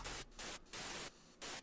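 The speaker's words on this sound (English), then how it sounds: "white noise lead just to make the sound seem more full." A white noise synth lead made in FL Studio: bursts of broadband hiss switch on and off in a choppy rhythm, four loud blocks of noise separated by short gaps, synth-like and steady within each burst.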